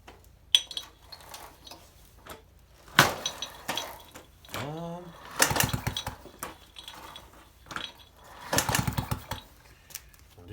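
A 1971 Peugeot 103 moped pedaled to start it: irregular metallic clanks and rattling bursts, with one brief wavering whine partway through, close by and with no voices.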